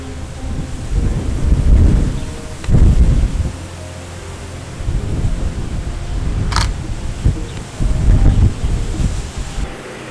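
Deep rolling thunder booms repeatedly over a steady hiss of rain and gusting wind, some rumbles close and heavy.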